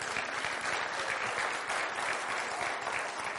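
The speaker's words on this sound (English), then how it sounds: "I noticed that some of you clapped" An audience claps steadily during a church sermon, a dense, even wash of many hands sustained at moderate loudness throughout, with no voices over it.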